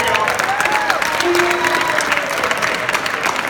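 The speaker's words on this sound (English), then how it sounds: "can we give them a round of applause?" A high school talent show crowd claps steadily in a full room, a thick sustained wash of applause with faint cheering and whistles mixed in.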